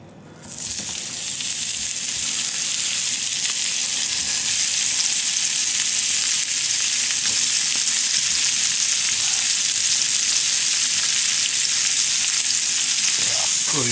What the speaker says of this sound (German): Wir braten da jetzt unsere Zwiebeln drin an